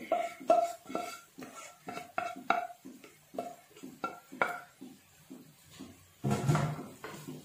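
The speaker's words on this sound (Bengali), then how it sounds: "আমি একটু উপর থেকে, নিচ থেকে পোলাওগুলোকে উপরে করে মাংসের সাথে একটু মিশিয়ে দিচ্ছি।" Pulao rice being turned over and mixed with meat in a pot, a run of rhythmic scraping and clinking strokes of a utensil against metal, close and fairly loud, with no talking.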